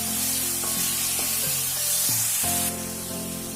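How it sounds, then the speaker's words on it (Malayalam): Onion and garlic paste sautéing in a pan for biryani, a steady close sizzle with a faint stirring scrape and a tonal background hum, no talking. "ഇനി ഇതിന്റെയൊക്കെ ഒന്ന് പച്ചമണം പോകുന്നത് വരെ ഒന്ന് വഴറ്റി കൊടുക്കുക"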